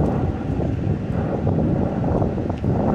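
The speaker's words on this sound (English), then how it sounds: "Look how windy it is." Steady, loud wind at sunset in Southern California rushing and buffeting a microphone, continuous low roar with no talking.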